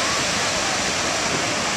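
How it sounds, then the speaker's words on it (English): Strong wind roars in a constant broadband rush, loud and unbroken throughout. "It's really windy here"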